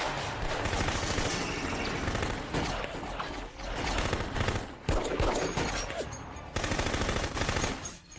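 Rapid bursts of gunfire in a kung-fu action film, loud continuous rattling volleys broken by short pauses until the shooting stops as the weapon runs dry.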